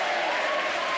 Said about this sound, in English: she gets a standing ovation from the Hartington crowd